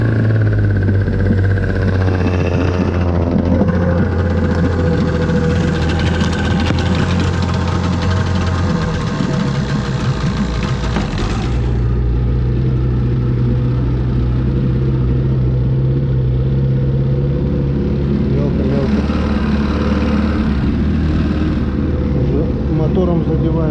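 A Vikhr outboard motor on a boat in shallow water on the Pechora river drones loudly and steadily, its low engine hum shifting pitch slightly over the run with no talk over it.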